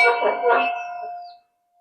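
A single bell strike rings out clearly and its tone lingers, fading away over about a second.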